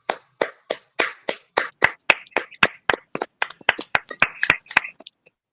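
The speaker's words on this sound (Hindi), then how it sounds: "आइए एक ऊंचे ताली के साथ परमेश्वर का धन्यवाद" Loud rhythmic hand clapping at a women's fellowship prayer meeting, about twenty sharp claps in a steady, slightly quickening beat, close and clear, fading out at the end.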